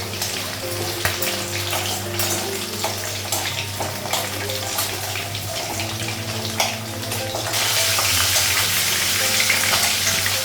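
Food sizzles in hot oil in a wok on a gas stove: a continuous, close crackling fry with occasional stirring clicks that grows louder toward the end. No one speaks.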